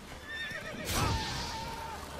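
A horse whinnies in The Witcher 3, a loud neigh near the one-second mark trailing into a wavering call, over steady game ambience with faint clip-clop of hooves.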